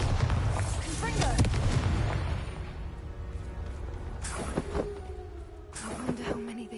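Spell blasts from Bombarda and Confringo in the Hogwarts Legacy video game: a dense rumbling burst of booming impacts early on, then sharper separate cracks and whooshes later, with a voice talking over parts of it.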